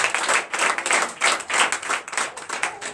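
Church congregation at a Sunday worship service in Comè, Benin, clapping in rhythmic bursts, a steady patter of many hands that swells and dips roughly twice a second, fairly close and loud.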